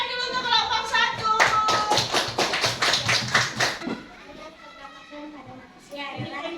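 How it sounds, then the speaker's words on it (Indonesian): A classroom of students clapping in unison for the first group after their presentation in an Indonesian school lesson, a rhythmic burst of about ten sharp claps, with children's voices and a teacher talking before and after. "Tepuk tangan dulu untuk kelompok 1."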